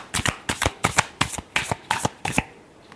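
A deck of tarot cards is shuffled up close in about eight quick, evenly spaced riffling bursts over three seconds, crisp and fairly loud with nothing else heard.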